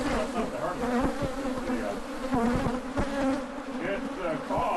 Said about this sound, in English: The cause of these damn bees.